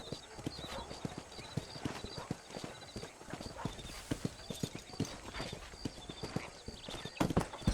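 Horse hooves clip-clop at a steady gallop in the Red Dead Redemption video game, close and continuous, with occasional whinnies and a louder burst near the end.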